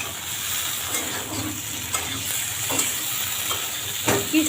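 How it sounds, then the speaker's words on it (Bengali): Okra cooked with mustard sizzles steadily in a pan under a close, continuous hiss, with scattered spatula scrapes and stirring clicks breaking through every second or so. "দিয়ে কষিয়ে নিচ্ছি।"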